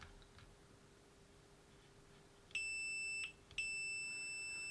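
A multimeter on continuity setting beeps as its probes touch an intact fuse inside a faulty 35A smart battery charger: two steady high-pitched tones, the first lasting under a second, a short break, then a second sustained beep.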